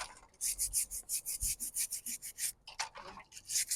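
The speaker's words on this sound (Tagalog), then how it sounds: "Tignan nyo, ganito mag-brush. Parang nagbabrush ng damit." A stiff brush scrubs mud off something in quick, rhythmic back-and-forth strokes, about three or four per second, close and crisp, with a brief pause before the strokes resume, and no voices.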